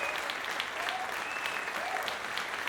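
Steady crowd applause fills a stadium in a Madden football video game during a kickoff, an even, distant roar of clapping throughout at low volume.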